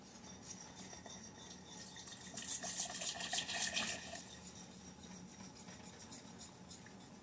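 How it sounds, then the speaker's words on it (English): Hot water poured into a pan of homemade gravy, a steady, close splashing pour that swells in the middle and then settles to a softer bubbling trickle. "I'm going to be adding hot water."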